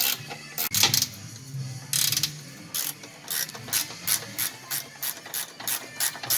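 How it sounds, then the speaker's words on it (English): A 5/8 ratchet wrench works loose the rear motor mount bolts on a 2014 Jeep Patriot, with close, crisp ratcheting clicks in rhythmic bursts and short pauses between strokes, no talking. "Now we're going to remove the back two bolts of the motor mount with a 5/8 ratchet wrench"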